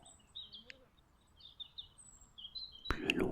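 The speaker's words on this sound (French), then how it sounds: "Le chant des oiseaux" In a quiet forest, soft bird calls and chirps come in scattered bursts at a distance, ending with a closer, louder rustle or burst of sound.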